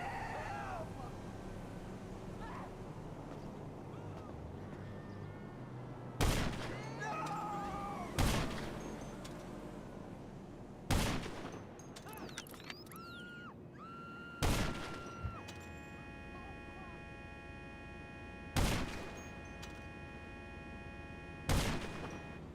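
Gunfire from gang members in a Rockstar game, six sharp, loud shots spaced several seconds apart over a quieter bed of ambient street noise.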